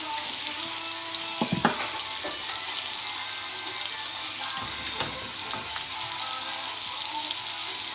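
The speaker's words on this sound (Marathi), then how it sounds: "आनी हे चॉप भाजता आसतना टर्न करूं नाका, कित्याक एकी सायडीन बरे भाशेन भाजूंक जाय ते." Pork chops fry in hot oil in a home kitchen pan, a steady close sizzle with a few sharp clinks and scrapes of a utensil; no talking.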